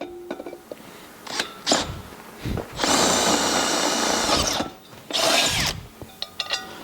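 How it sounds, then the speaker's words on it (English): A power drill whirs in short bursts, then runs in two longer, loud stretches of steady grinding with brief pauses between, drilling a hole for a bolt in a three-piece wheel for a Suzuki Cappuccino. "Then drill a hole."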